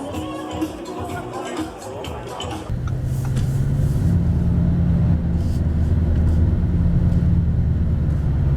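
Inside a Lamborghini Urus super SUV, the V8 engine swells into a deep, loud, sustained drone after a few seconds of cabin chatter, rising in pitch as it pulls, with voices heard early on.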